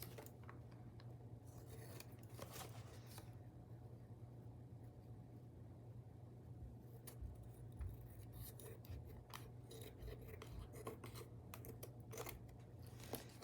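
Scissors trim paper for a collage journal in quiet, close snips and crisp cuts, set over a steady low hum, with no talk.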